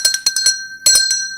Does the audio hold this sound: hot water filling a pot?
no